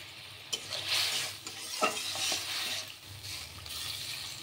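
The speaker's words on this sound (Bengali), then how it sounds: "একটু জল দিলাম, একটু এই বাটিটাই ধুয়ে জল দিয়ে দিলাম।" Chilli egg gravy, seasoned with salt, sugar and vinegar, sizzling in a pan as a splash of water is added and stirred in, a close hissing sizzle with a few scraping stir strokes and no talking.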